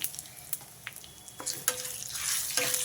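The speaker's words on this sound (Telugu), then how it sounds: "పచ్చడిని పోపులో వేసేస్తున్నా అండి" Ground chutney going into a hot tempering in a pan, giving a steady, close sizzle and frying crackle that swells toward the end, with a few light stirring clicks.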